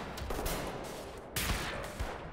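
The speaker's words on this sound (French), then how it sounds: "Qui c'est qui me tire dessus?" Gunshots from Wolfenstein: The New Order, a few quick cracks at moderate loudness, with a sharper burst about midway and another shot near the end.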